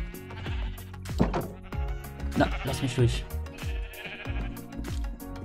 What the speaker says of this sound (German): So, hier schere ich auch mal die Schafe, ne?